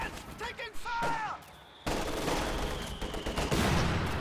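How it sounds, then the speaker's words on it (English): Mortar shells pound a house in a real-time strategy battle, a run of heavy blasts and crackling gunfire that swells into a dense, continuous barrage after a brief lull, with a whistling tone early on and a voice talking over it. "Mortar bombarding the house."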